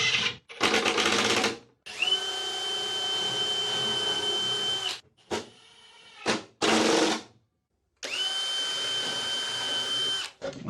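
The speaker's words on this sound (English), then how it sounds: "I'm just going to drill pilot holes through and drive 1 1/4-inch screws in" A power drill whirs in several long bursts with short pauses between, its motor pitch steady, plus a brief lower rattling spell midway, driving 1 1/4-inch screws through pilot holes into a wooden panel; no voices.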